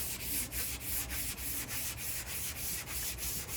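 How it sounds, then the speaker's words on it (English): Steady rhythmic strokes of hand sanding on a rusty car body restoration, moving diagonally, close and even, with regular back-and-forth rubbing and no talk. "Just want to sand diagonally, just like so."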